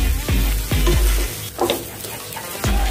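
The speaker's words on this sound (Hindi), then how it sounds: "ऐसे इसको अच्छे से चलाएंगे चम्मच।" A spoon stirs vada pav filling in a hot pan, with loud repeated scrapes and knocks against the metal over a continuous frying sizzle.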